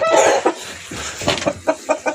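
Hens in a backyard coop, including a rooster, give a run of close, loud clucks and short squawks that come in uneven bursts with brief pauses between.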